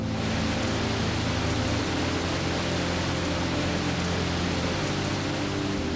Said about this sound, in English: Overnight, the rain came in even harder.